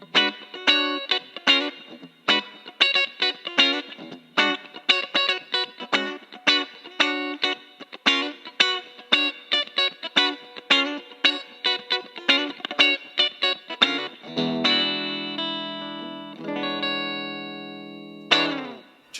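A PRS S2 single-cut electric guitar on its bridge single-coil pickup, volume and tone fully up, plays a funky run of crisp, clipped chords and single notes, then lets a few chords ring out near the end.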